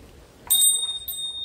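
A small bell at a Shiva temple on a hillside trek rings twice, a bright ding followed by a softer second strike, close and ringing briefly over quiet background.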